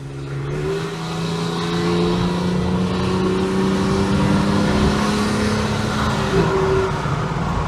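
A Vauxhall Senator B 3.0i CD with a dual-ram 24-valve engine drones loudly through its exhaust as it accelerates steadily, the engine note rising and holding, close and continuous with no talk.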